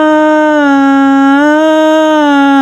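A single sustained singing voice glides smoothly upward from D flat to E flat, loud and close, held steady with clear harmonics and no other sound.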